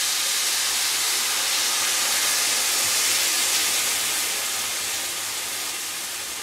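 Beer sizzles hard in a hot pan for a chicken and bean casserole, a loud, steady hiss that holds throughout and eases slightly toward the end.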